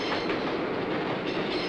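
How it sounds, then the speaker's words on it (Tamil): A train passing close by, a loud continuous rumble of rolling wheels and rattling wagons with faint rhythmic clatter, steady for the whole short stretch with no voices. "ட்ரெயின் வேற வந்துச்சுடா"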